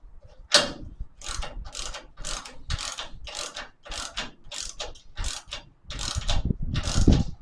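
Ratchet clicks in about a dozen short, evenly spaced bursts while tightening bolts on a car rotisserie holding a Holden Torana UC body, close and clear in a quiet workshop.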